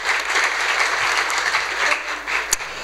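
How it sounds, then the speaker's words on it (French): Audience applauding after a presentation, steady close-packed clapping with no talk, holding at an even level for a few seconds with one sharper clap near the end. "On peut l'applaudir bien fort s'il vous plaît"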